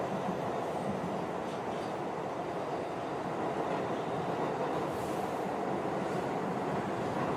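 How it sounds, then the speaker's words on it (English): A train running on railway tracks, heard from inside the carriage: a steady, loud rumble of wheels on rails with a faint rhythmic clatter, continuous throughout with no talking. "Tap your foot to the sound of the tracks."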